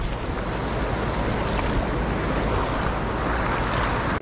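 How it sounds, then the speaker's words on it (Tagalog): Loud, continuous roar of strong sea waves and wind, a dense rushing wash with no pauses, close and enveloping. "Ang lakas ng alon,"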